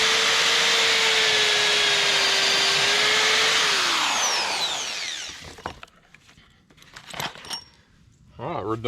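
A power drill whines steadily while boring through wood during a cabin floor build, its pitch sagging as it winds down and stops, followed by clicks, knocks and short bursts of talk.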